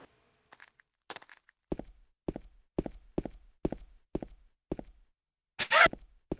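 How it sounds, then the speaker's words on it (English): Footsteps of James Sunderland in Silent Hill 2 sound as a series of about eight evenly spaced, hollow thuds played from the game, preceded by scattered small noises and ending in a brief harsh burst. "We're just listening to footsteps guess this game."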